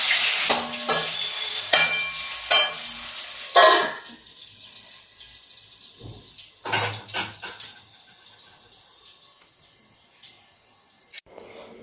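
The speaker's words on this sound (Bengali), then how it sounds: "এখানে ভাজা অলরেডি বসিয়ে দিয়েছি" Food for khichuri fries and sizzles in a pan while a utensil stirs and clatters against it in several sharp bursts, fading to a softer hiss toward the end.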